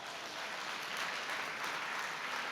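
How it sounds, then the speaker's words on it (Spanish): Church congregation clapping loudly in praise, a dense, steady wash of applause heard alone and at an even level for its whole length. "Dale fuerte el aplauso al Señor"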